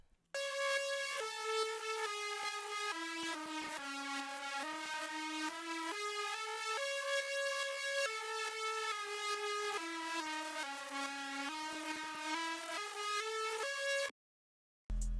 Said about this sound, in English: for the main part of the melody, we've got another lead from Serum playing this pattern